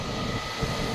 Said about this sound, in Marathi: बघा कसं हळूहळू स्पीड पकडेल आणि टेक ऑफ करेल